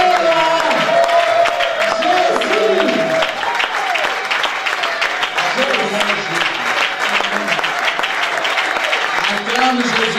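A congregation at a Lyon church seminar applauds and acclaims Jesus with sustained, loud clapping and cheering, mixed with raised voices and talk running throughout.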